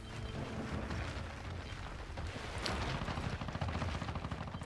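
Sustained gunfire in Gears of War 4 multiplayer on the Harbor map, a continuous rumbling barrage of shots and impacts at moderate distance, steady throughout with no talk over it.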